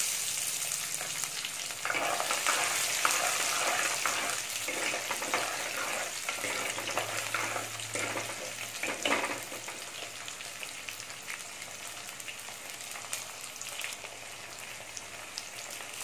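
Whole peeled shallots fry in hot oil with fenugreek, giving a steady, dense crackling sizzle with brief bursts of stirring, with no voices.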